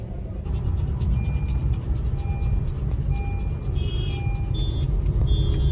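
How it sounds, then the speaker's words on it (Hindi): Heavy road traffic in a jam on the way to Haridwar, with a steady dense rumble of idling and crawling vehicles, occasional horn and reversing beeps, continuous throughout. "दुनिया भर का ट्रैफिक हो रहा है।"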